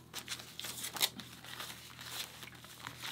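Tape is handled close by with soft crinkling and crackling, including a sharper rustle about a third of the way in, quiet and without talk.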